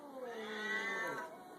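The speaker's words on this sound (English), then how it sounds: "What's that cat saying to you?" A cat meows indoors in one drawn-out, wavering cry that rises and then falls over about a second and a half. It is moderately close and heard alone.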